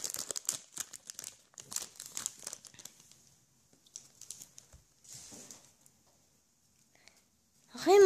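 Packaging of a Pokémon Platinum card display being opened, with close crinkling and tearing of plastic in bursts, then quieter rustles and a brief voice at the end.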